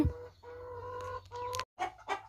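Laying hens on a small Thai backyard farm cluck and squawk in short, close, fairly loud bursts, with a brief pause before a few more calls.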